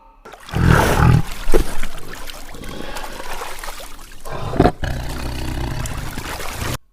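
A tiger's roar, a loud, rough, drawn-out growl rising near the start and fading with a second rumbling surge midway, backed by a watery trickle.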